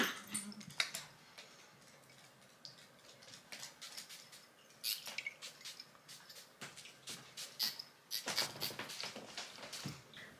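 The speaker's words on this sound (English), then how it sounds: "Sorry about the dog playing in the background." A dog playing indoors in the background, heard as scattered light yips, whimpers and pattering paw or claw sounds that come in short irregular bursts, fairly faint and growing busier toward the end.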